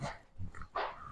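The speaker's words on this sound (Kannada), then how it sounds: "ಇವ್ ನಾಯಿ ನೋಡ್, ನಾ ಬರೋಣ ಬರ್ತಾವ." Village dogs barking in a short burst, a couple of sharp barks and yips close by, fairly loud against quiet surroundings.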